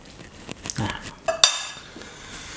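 Stir-fried noodles being served onto a plate, with scattered metallic clinks of a utensil against cookware and a sharp ringing clank near the middle, moderately close.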